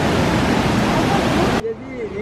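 Seti River in Pokhara, Nepal, milky white limestone water rushing through a small tunnel: a loud, steady broadband roar for most of the clip, cutting off abruptly near the end as a voice speaks.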